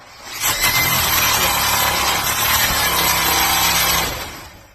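A rake drawn across a spinning buffing wheel to scrape off burnt-on rouge and aluminum, giving a loud, steady harsh scraping roar over the motor's hum for about four seconds before stopping.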